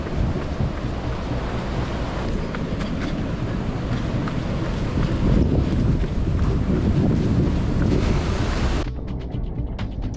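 Ocean surf rolls continuously along a coastal running trail, a loud, broad roar of waves mixed with heavy wind buffeting the microphone, easing abruptly near the end.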